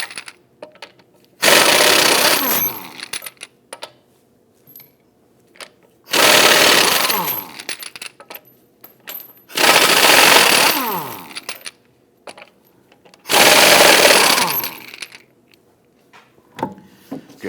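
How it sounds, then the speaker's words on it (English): A power tool with a 19mm socket loosens and removes the wheel lug bolts on a Volvo XC60, sounding as four loud, buzzing, rattling bursts of about two seconds each, separated by quiet gaps. "go ahead and loosen and remove the lug studs"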